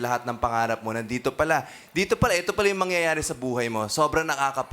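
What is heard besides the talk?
No everyday noises stand out.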